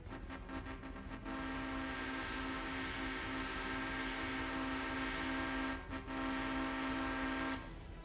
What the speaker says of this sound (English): Never fear, locomotive is here.